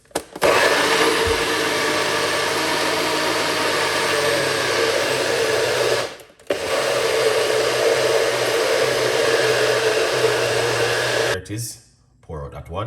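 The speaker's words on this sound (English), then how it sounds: "Let's blend this one." Blender whirring through a cucumber and mint drink, a loud steady motor roar running in two long bursts with a brief stop between and a sputtering wind-down at the end.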